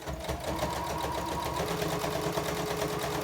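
Sewing machine running steadily while topstitching white thread across a homemade quilted placemat, a continuous close mechanical whir with rapid needle rhythm and no voices.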